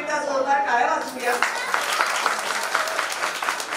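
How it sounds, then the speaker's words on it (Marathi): A crowd at a baby's naming ceremony and birthday gathering breaks into brisk, dense clapping after a brief voice, and the applause continues steadily to the end. "बाळासाठी शुभेच्छा देण्यासाठी आपण एकदा जोरदार टाळ्या वाजवूया."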